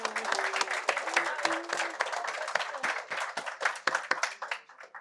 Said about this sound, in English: Another round of applause for Symone French.